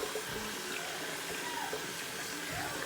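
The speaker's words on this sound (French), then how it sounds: "Le poisson avec un peu d'eau." Water running steadily from a tap while fish is being rinsed in a sink, a constant moderate splashing wash with no break.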